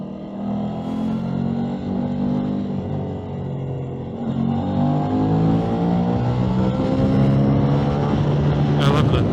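An Aprilia RS660 motorcycle cruises steadily, its engine a continuous drone with rising and falling pitch as it shifts and accelerates, close and loud throughout with wind rush, no one speaking.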